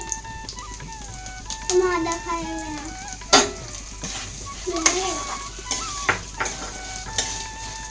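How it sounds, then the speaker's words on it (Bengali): Mung dal fries in ghee with cumin over a low gas flame while being stirred. A soft sizzle carries irregular clinks and scrapes of the utensil against the pan, and a voice is briefly heard. "মুগ ডালটা আমি ভালো করে একটুখানি ভেজে নেবো ঘিয়ের সাথে"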